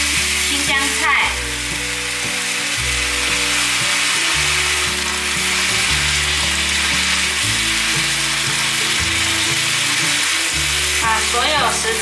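Bok choy, sugar snap peas, green beans and cabbage stir-frying in a hot pan, a loud continuous sizzle with the scrape and clatter of a spatula tossing the vegetables.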